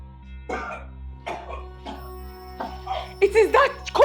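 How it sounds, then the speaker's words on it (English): A person in a Nigerian drama scene coughs in several rough, throaty bursts that grow harsher and louder toward the end, close to the microphone over a low background hum. "It is that cough that will choke you there."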